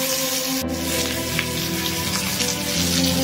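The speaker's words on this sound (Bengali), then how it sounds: "পেঁয়াজটাকে সুন্দর করে ভেজে নেব।" Onions frying in oil for a potato and mutton curry, giving a steady, dense sizzle with a sharp crackle near the start and continuous spattering throughout.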